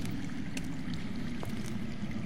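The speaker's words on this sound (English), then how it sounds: "That's water. I hear water. From underground." Low, steady murmur of water flowing underground, faint and muffled, a continuous rushing wash with occasional soft trickles and no voices.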